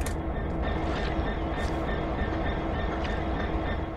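A train in Train Sim World runs with a continuous rolling rumble and faint rhythmic wheel clatter, with occasional higher squeals, steady and moderately quiet with no voices.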